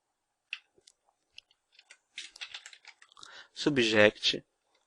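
Keystrokes on a computer keyboard while composing an email subject line on a Postfix mail server: sparse, soft clicks at first, then a denser patter as a voice begins talking over it.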